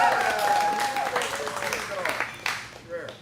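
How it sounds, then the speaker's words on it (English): Audience applause at a live stand-up comedy show, a busy crowd wash mixed with cheers and voices that fades back toward the end. "Your applause is weak"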